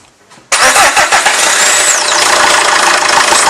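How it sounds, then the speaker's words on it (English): A diesel engine on a common rail pressure test rig cranks and fires abruptly, then settles into a loud, steady idle with a slight knocking rattle, close by and alone. "start up the engine, it will take a few seconds to stabilise."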